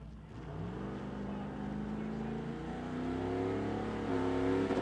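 A 1963 Chevrolet Nova launches down the drag strip at the Strip at Las Vegas Motor Speedway during Street Car Super Nationals, its engine note climbing steadily through the run, heard from a distance and moderately faint.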